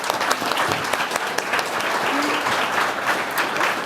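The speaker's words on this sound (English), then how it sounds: "if you would just give them a round of applause for me" An audience at a panel discussion on Manchester's green skills divide gives sustained, even applause, a dense clatter of many hands clapping at moderate volume throughout.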